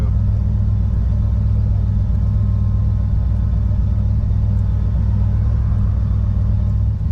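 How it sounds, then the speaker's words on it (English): A 1987 Chevrolet Monte Carlo SS, newly converted to EFI, idles a little high with a steady, loud, deep rumble that holds level throughout, heard close and without talking. "Just seems like it idles a little high."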